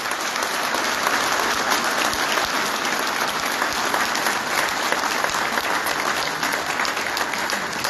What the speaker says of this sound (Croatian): I molim vas da ove sve koje se nabrali da ih pozdravite s jednim velikim pljeskom.